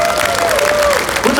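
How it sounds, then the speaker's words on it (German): Crowd at the Toyo Tires booth of the Essen Motor Show applauds in a short, steady burst, with a voice calling out over the clapping. "Kriegt der Ben mal einen Applaus hier von allen?"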